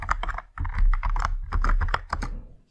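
Typing on a computer keyboard while entering a Linux terminal command, a quick run of close keystrokes in irregular bursts with short pauses, near and fairly loud, no talk.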